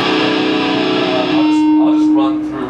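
An electric guitar played through a Blackstar amp's modulation effect at a NAMM clinic in Anaheim, sustaining notes with a swirling, shimmering tone that runs steadily and loudly through the whole passage.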